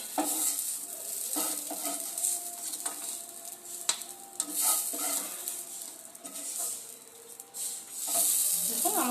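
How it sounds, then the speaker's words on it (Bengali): Spices sizzling in hot oil in a wok while being stirred, a constant close hiss broken by scraping spatula strokes and occasional clinks of metal, with no talking. "যতক্ষণ না মশলাগুলোর কালারগুলো একটু চেঞ্জ হয় তত সময় তেলের মধ্যে একটু নাড়তে চাড়তে হয়"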